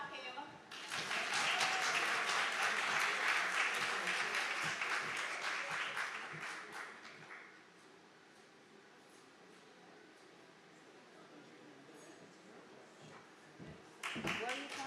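A conference audience breaks into loud applause of many hands, sustained for several seconds before tapering into murmuring chatter, with a fresh burst of claps at the end.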